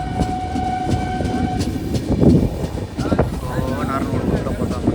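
A passenger train on the Tirupati to Vijayawada route runs along the tracks with a continuous rumbling clatter and wind buffeting, heard loud from on board.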